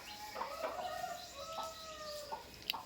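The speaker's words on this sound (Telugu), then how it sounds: "ఇదిగో ఇదేనండి తల్లి కోడి" A mother hen that hatched a clutch of eggs clucks in a run of drawn-out, throaty calls with a few sharper notes, close and steady, with no talk.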